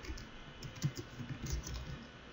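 Faint, quiet keystrokes on a computer keyboard while switch configuration commands are entered, soft irregular clicks spaced across a couple of seconds with no voices.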